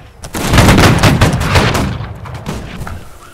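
Musket volley fired on command: a dense, loud crackle of many shots bursting together, rolling for about two seconds before trailing off into scattered echoes.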